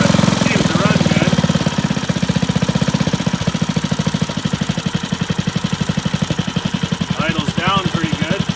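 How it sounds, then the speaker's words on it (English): An old flathead Briggs and Stratton 5 hp engine, salvaged from a dump, runs with a rapid, even chugging beat that holds steady close by, while someone talks over it at the start and end. "Seems a lot like it's starving just a little bit when it starts up, but it seems to run good."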